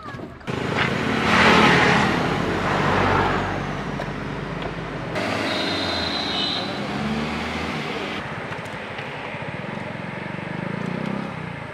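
A car starts and drives off, its engine rumbling steadily at close range before fading into a lower hum, with people talking over the motor noise.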